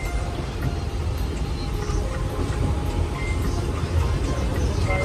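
Interior of a moving local train heading toward Kalyan, a steady rumbling clatter of the carriage on the rails, fairly loud and continuous, with no talking.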